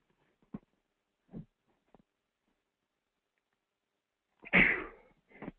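A single sharp sneeze bursts out near the mic after a few quiet breaths and small sniffs, followed by a brief exhale.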